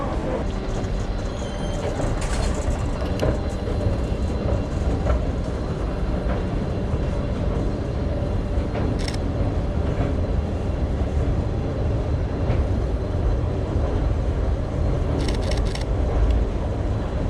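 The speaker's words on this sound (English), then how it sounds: "Let's try out our luck in the metro station" Ambience inside a metro station, with trains rumbling steadily through a loud, dense wash of low noise that runs without a break, plus a few brief higher hisses and clatters.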